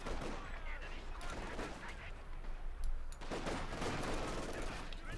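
Rapid battlefield gunfire from G43 rifles and a light machine gun in Company of Heroes 2, dense overlapping shots and bursts at mid distance, with a voice talking over it.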